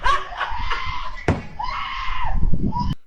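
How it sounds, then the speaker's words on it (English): A man screams in a tense street confrontation, a loud raw shout with a sharp bang partway through and more yelling after. "Now, this guy's screaming"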